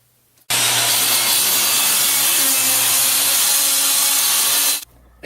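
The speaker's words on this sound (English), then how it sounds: "it's now time to cut the hole in the deck" A saw cuts through a wooden roof deck to open a hole for a slant back roof vent, one loud continuous rasping cut lasting about four seconds before stopping abruptly.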